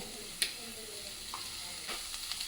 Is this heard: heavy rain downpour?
no